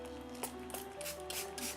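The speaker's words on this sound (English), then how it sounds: "So let me just add the water, spray and then the water." A spray bottle mists water onto a palette of watercolor paints, giving a few short, soft hissing bursts close by and faint against a quiet room.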